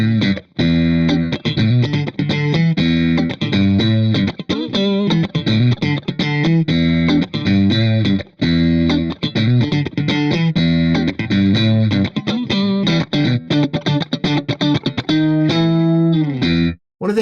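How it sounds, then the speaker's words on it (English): Electric guitar through a Fractal rig and Celestion F12-X200 and F12M-150 full-range speakers, playing funky chords and riffs with a shimmering stereo chorus effect, loud and continuous, without talking. "I've added a stereo chorus for something kind of snappy and funky"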